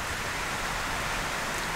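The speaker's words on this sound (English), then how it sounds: "Oahu is getting a lot of rain because of it at the moment" Heavy rain from Tropical Storm Olivia pours down on Oahu, a dense, steady hiss of downpour filling the whole clip without a break and with no voices.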